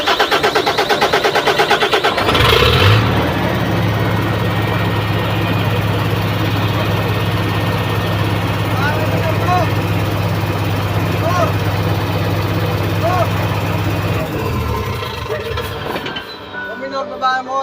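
A Fuso 6M70 diesel truck engine cranks and fires into a loud, low, steady idle with a deep drone, close by, then cuts off near the end, with people talking over it.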